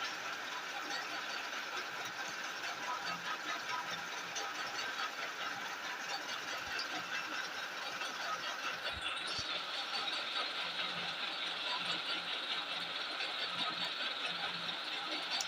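A milling machine cuts a helical gear at about 3–4 mm depth on a reduced feed, giving a steady, fairly faint mechanical whine and hum that stays constant throughout, with no talking.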